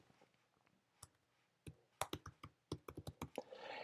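Typing on a computer keyboard while entering a legal search query, heard as a burst of sharp, close key clicks in an irregular quick rhythm, sparse at first and then dense, with no talking.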